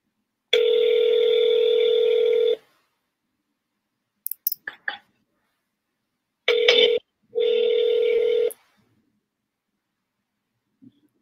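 A phone call is passed to voicemail, with a steady dial-type tone, a brief cluster of clicks, then two more tone bursts separated by a short gap, all loud and clear, followed by near silence.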